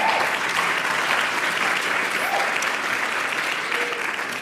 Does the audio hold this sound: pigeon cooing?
no